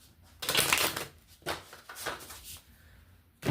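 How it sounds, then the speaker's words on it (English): Tarot cards are shuffled by hand nearby, with a sustained riffle, several shorter papery bursts, a brief pause, and one last snap at the end. "I shuffle the deck and see who jumps out."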